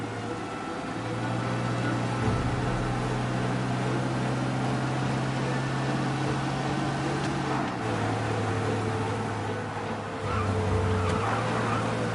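A car engine in Mafia: Definitive Edition drones steadily at speed, its pitch shifting as it changes gear, with no voices over it.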